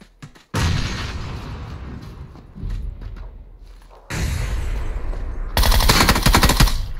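Loud, rapid bursts of gunfire in PlayerUnknown's Battlegrounds rattle almost continuously, with sustained automatic fire and heavy shots layered over each other.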